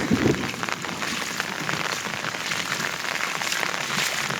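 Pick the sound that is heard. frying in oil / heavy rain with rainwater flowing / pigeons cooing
heavy rain with rainwater flowing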